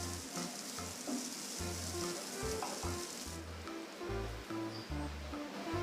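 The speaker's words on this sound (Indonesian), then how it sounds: "Kemudian kita aduk sampai tercampur." Fried rice sizzles steadily in a pan while being stirred, a dense continuous crackle with intermittent low scraping knocks from the stirring, close and fairly loud, with no talking.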